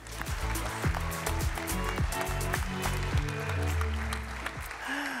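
Audience at an event on young entrepreneurs applauds a speaker, dense steady clapping filling the room with music playing underneath and some low thumping beats.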